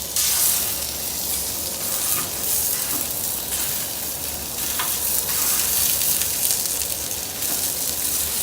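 Mild Italian sausage sizzles in oil on a hot Blackstone griddle, a steady close, loud frying hiss running throughout with a few faint clicks and scrapes, no talking.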